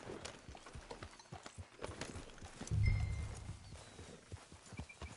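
Horse hooves clop along in a steady walking rhythm in the video game Red Dead, with a brief low rumble partway through.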